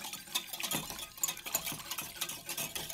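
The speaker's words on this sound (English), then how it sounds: "You pretty much just stir, whisking, until your sauce thickens and clears" A whisk stirring a roux sauce with vegetable stock in a pan, quick soft scraping and sloshing strokes in an irregular rhythm, close but fairly quiet.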